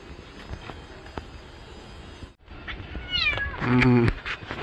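A wet cat meows in protest during a bath with Dettol water, giving a few drawn-out, rising and wavering cries near the end, close by. Someone talks softly over it.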